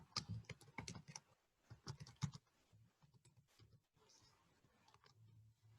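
Keystrokes on a computer keyboard as a password is typed, quick clusters of taps in bursts with short pauses, close and moderately quiet, with no voices.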